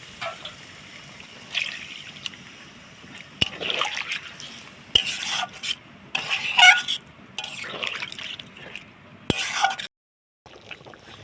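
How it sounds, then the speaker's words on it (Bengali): Water poured into a pan of frying potato and pointed gourd curry, heard as close, uneven splashing and trickling bursts with brief pauses and no talking. "এবার পরিমাণ মতন জল দিয়ে দেবো।"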